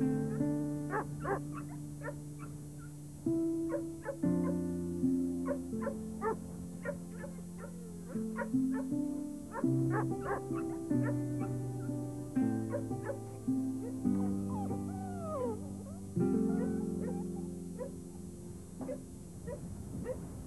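Puppies whimpering and yipping, a steady stream of high, wavering whines and short yips from several young dogs close by, with no talk over them.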